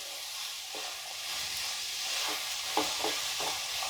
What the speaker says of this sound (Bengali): এবার সব উপকরণগুলোকে মাখনের সঙ্গে ভালো করে ফ্রাই করে নিতে হবে।